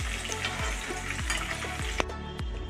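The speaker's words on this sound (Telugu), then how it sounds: "ఇప్పుడు వంకాయ వేగిపోయింది కదా" Eggplant pieces fry in hot oil with a constant close sizzle, broken by repeated stirring or scooping strokes roughly every half second, with no voices.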